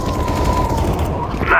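Rapid bursts of gunfire from Counter-Strike: Global Offensive fill the moment, dense and continuous in the foreground, with a voice talking faintly underneath.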